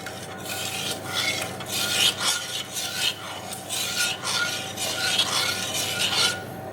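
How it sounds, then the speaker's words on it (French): A spoon stirs and mashes tuna with mayonnaise in a bowl, making a steady rasping, scraping rhythm of repeated strokes. The sound is close and continuous and no voice is heard. "mettez le thon dans un bol et mélangez-le bien avec de la mayonnaise"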